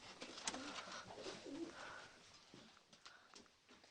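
A female pigeon coos softly a few times amid steady outdoor background noise, close by and fairly faint.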